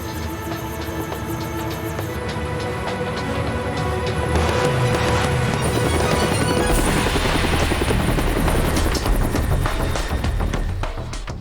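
A helicopter in the video game Yakuza 4, its rotor thumping and engine whining loudly and steadily, growing slightly louder partway through, with no talk over it.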